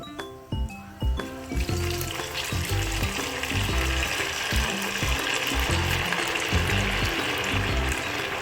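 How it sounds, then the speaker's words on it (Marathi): Four sabudana vadas deep-fry in very hot oil, a loud, dense bubbling sizzle that swells after a few light clicks at the start and then holds steady. "तर मी आता 4 वडे सोडलेले आहेत"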